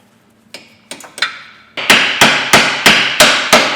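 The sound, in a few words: hammer tapping a car hub part fully home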